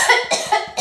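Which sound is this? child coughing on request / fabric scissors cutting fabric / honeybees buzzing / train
child coughing on request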